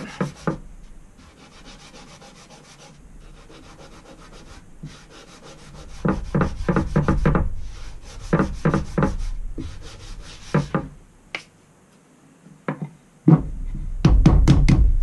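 Finish is rubbed by hand into a mulberry wood cutting board, with steady scrubbing strokes that grow louder and more rhythmic partway through, then a few sharp knocks near the end.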